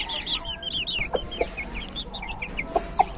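Chickens clucking close by, short repeated clucks and chirpy calls in a steady flock chatter, with a few louder individual clucks.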